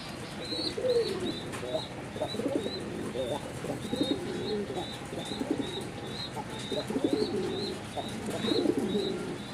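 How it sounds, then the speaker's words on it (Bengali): A pair of desi Raj Golla pigeons coos in low, repeated rolling phrases through the whole stretch, close by, with thin chirps from other birds in the background. "এক জোড়া রাজগোল্লা কবুতর"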